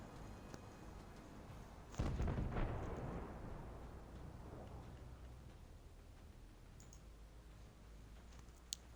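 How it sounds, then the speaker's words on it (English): A Conqueror tank fires a HESH shell in a tank video game, one loud deep boom with a sharp onset and a long rumbling decay, alone, with faint ticking clicks afterward. "the Conqueror resorted to firing Hesh"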